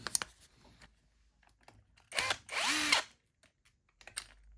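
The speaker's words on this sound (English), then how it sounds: "I'll have to take out a load more screws, am I?" A power tool spins out screws from a seized GM 12V car tyre air pump, giving two short whirring bursts near the middle, the second with a falling pitch, among scattered clicks and handling knocks in a quiet room.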